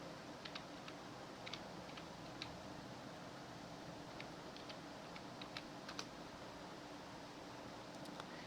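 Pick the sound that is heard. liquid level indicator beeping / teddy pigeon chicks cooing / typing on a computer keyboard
typing on a computer keyboard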